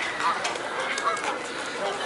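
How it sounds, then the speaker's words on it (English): Geese honk faintly at a big lake, their calls half lost in steady outdoor noise and wind. A few brief honks rise above the wash. "Look at geese here."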